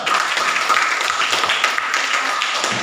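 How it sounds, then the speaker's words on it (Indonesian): A classroom group gives applause during a lesson, a dense, steady patter of many hands clapping together for about three seconds without pause. "Betul, tepuk tangan dulu."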